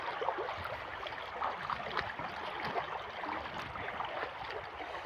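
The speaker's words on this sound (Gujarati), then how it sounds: "તો આ છે નદી આપણી" A river running beside farm fields, its water gurgling and trickling steadily at a soft, fairly close level, with no voices over it.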